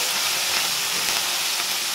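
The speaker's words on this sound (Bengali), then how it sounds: "এবার আমি মাছটা ভেজে নিচ্ছি।" Small mola fish frying a few at a time in a little oil in a pan, a dense, even hiss of sizzling that holds steady and close throughout.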